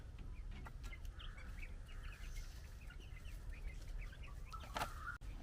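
Young chicks kept at a rural Kerala home cluck and peep faintly in the background over steady low ambient noise, with short scattered calls and no talking.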